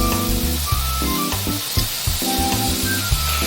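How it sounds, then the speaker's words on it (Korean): Marinated Korean beef skirt (tosisal) sizzling loudly on the grill, a dense crackling fry broken by brief clatters and scraping sounds near at hand, with no voices. "아까 재워둔 토시살 구워야 해요. 토시살을 마저 구워볼게요."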